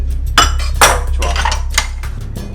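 Glass bowls, chopsticks and spoons clink and clatter while being washed in a sink, with a steady run of close, bright knocks and rattles over a running-water hiss.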